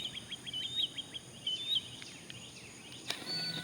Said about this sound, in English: Those old hunting simulators, you'll hear birds chirping.